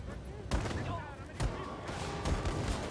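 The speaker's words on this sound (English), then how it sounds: "Give me the gun. I don't care if it's a slow shooting explosive one." An explosive, slow-firing gun in Wolfenstein II: The New Colossus fires in three heavy booming shots spaced about a second apart, with a voice talking over the gameplay noise.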